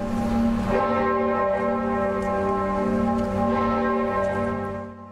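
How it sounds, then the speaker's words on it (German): A church bell of the Gedächtniskirche in Berlin tolls with a strong stroke near the start, its deep, rich harmonic hum ringing and slowly decaying for several seconds, loud and alone. "wurde eine Glocke der Gedächtniskirche für 12 Minuten lang geläutet."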